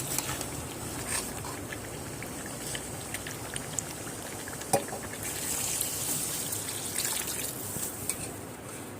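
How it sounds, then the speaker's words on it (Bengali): Water is poured into a pot of yam and meat curry, a soft continuous trickle and splash running throughout, with a few small clinks and a brief knock partway through. "কষিয়ে নেওয়ার পরে এবারে পরিমাণ মতো জল অ্যাড করে দিতে হবে"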